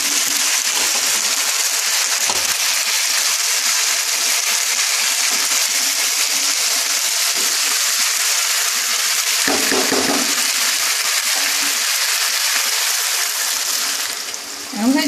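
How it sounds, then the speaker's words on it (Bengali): Water is poured steadily into a pot of chicken stew with vegetables, a loud, continuous rushing and splashing that lasts several seconds, with some talk mixed in. "এবারে আমি জল দিয়ে দেবো"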